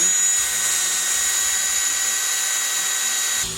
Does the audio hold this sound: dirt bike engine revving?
no